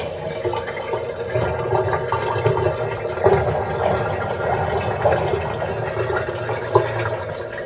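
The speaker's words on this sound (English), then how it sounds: "So what I'm going to do is drain the water right now." Steady rushing, gurgling flow of a washing machine draining water, with a low mechanical hum underneath, continuous throughout with small splashy surges, fairly close.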